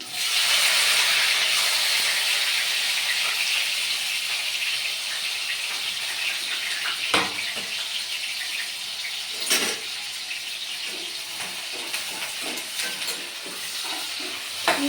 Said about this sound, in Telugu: దీంట్లోనే ఇంకా కట్ చేసుకుని ఉల్లిగడ్డలు వేస్తున్నాను.